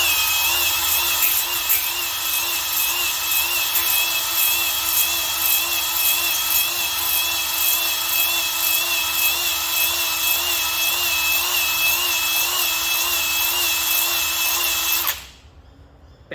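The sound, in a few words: drill-driven hone honing RB30 engine cylinder bore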